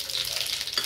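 Bay leaf and whole spices tempering in hot oil for paneer butter masala, giving a steady close sizzle with a soft stir scrape near the end, no voices.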